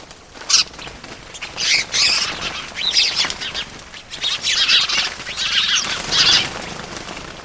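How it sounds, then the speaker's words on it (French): Shrill bird squawks and cries burst out in repeated loud calls, several overlapping over a background of bustling noise, with no talk. "Les oiseaux poussent des cris stridents qui fonderaient une pierre en deux."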